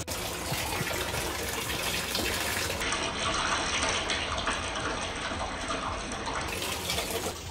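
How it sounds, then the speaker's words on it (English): A bathtub fills from the tap, water gushing steadily and fairly loud from start to finish, a constant hissing splash with no talking. "start filling up this bath"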